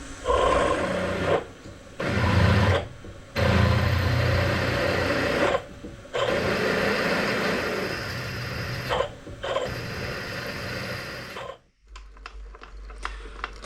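A 10mm drill bit grinds into metal in several bursts with short pauses between, loud and close, ending with a low hum after it stops.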